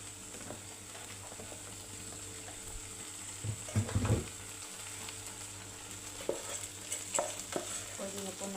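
Oil sizzles in a pan for Chinese fried rice, a steady crackling hiss with a few louder bursts and light clinks of a utensil against the pan.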